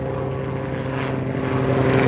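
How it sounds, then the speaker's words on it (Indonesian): A helicopter flies overhead with a steady, loud droning rotor and engine roar that swells slightly toward the end, with no voices over it. "Apaan? Helikopter."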